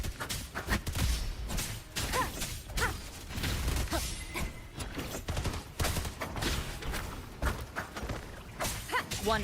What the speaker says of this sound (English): Ugh, gunfire! Coming from behind that door!